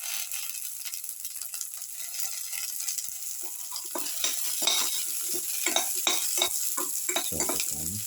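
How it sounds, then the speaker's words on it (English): Garlic sautéed in a pan for a cumin shallot chili dip, a steady frying sizzle that grows busier as a spoon stirs and scrapes, with repeated clinks against the pan and no voices. "Put in the garlic"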